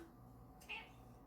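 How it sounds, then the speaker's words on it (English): A single short cat meow, faint and close, standing out briefly against a quiet indoor room hum. "Meow."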